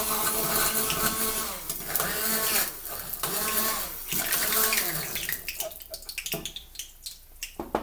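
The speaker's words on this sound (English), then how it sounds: "I'm going to use my hand emulsifier" Hand immersion blender working through a pot of beer ketchup, a whirring buzzy motor drone in pulsing bursts that thins out and turns sputtery and intermittent toward the end, close by with no talk.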